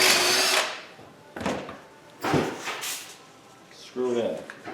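A drill countersinks screw holes in melamine form sides, sounding in three separate bursts of whirring with pauses in between. The bursts are loud and close.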